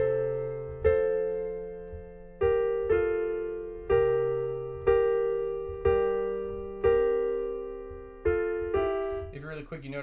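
A piano plays the right-hand melody of "America (My Country 'Tis of Thee)" slowly, each clear sustained note struck on its own and decaying before the next, with a brief busier flourish at the end.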